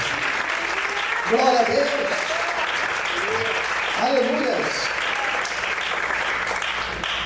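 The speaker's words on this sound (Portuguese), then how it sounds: "Você pode aplaudir e exaltar a Deus por isso." A church congregation applauds steadily throughout, a soft continuous wash of clapping at moderate distance, while a voice calls out praise over it.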